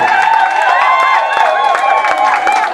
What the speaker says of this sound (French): Applaudissez aussi.